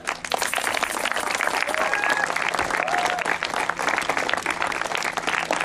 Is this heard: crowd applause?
yes